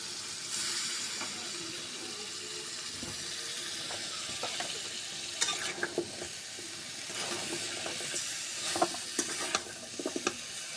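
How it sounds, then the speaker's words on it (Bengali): Chopped radish and potato sauté in an oil-filled pan for a Bengali mixed-fish dish, a steady close sizzle broken by occasional spatula scrapes and clinks as the pieces are stirred. "এখন দিয়ে দেবো মূলা আর আলু কেটে রাখা এগুলো আমি আগে একটু কষিয়ে নেব"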